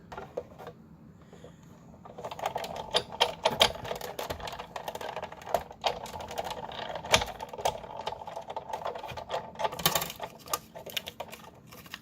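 A circle die runs through a die-cutting machine, giving a series of close clicks, rattles and crunching mechanical noises after a quiet start, irregular and moderately loud.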